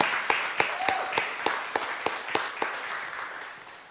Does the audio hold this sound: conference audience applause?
yes